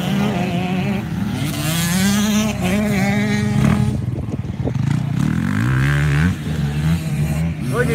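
Motocross motorcycle riding through a flat, dry corner, engine revving and dropping in pitch as it brakes, then picking up again, loud and close with some clatter.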